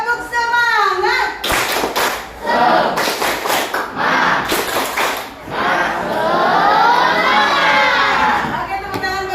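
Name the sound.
class doing rhythmic spirit clap chant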